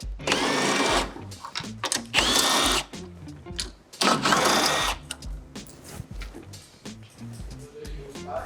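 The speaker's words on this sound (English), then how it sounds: "use my 12mm to remove the grab rails" A 12mm socket driver removing the grab rail bolts on an ES5 electric scooter, heard as loud bursts of buzzing mechanical whirring in close succession, followed by softer handling clatter and rattles.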